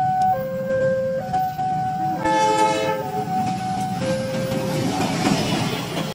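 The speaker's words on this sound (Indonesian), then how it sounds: "ini kereta api." A train rumbles along as a loud, multi-tone horn blasts for about a second, with shorter tonal honks before and after.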